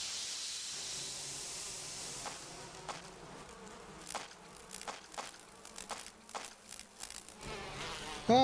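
Bees in Resident Evil HD buzz as a continuous insect drone over background hiss, with faint clicks and taps scattered throughout and a short electronic tone at the end.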